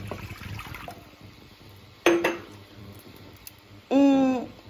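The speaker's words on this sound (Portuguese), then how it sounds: "vou colocar praticamente meio litro de água" Water poured into a cooking pot in a home kitchen, heard as two short gurgling bursts of filling liquid separated by quieter moments.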